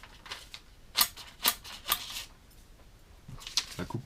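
Right-handed scissors cut through a sheet of paper, giving three crisp snips in an even rhythm, then a pause and a few softer snips and rustles nearby in an otherwise quiet room.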